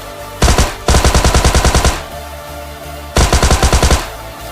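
Shotgun fire in a Hindi-commentated battle royale game: several loud, rapid bursts of gunfire in two clusters, each a quick string of close repeated blasts, with a short lull between.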